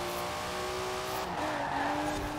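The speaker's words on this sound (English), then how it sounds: "Checking out some drifts." Tires squeal steadily as a car drifts through a race in the video game Forza Horizon 4, the engine droning underneath at a constant, loud level with no talk.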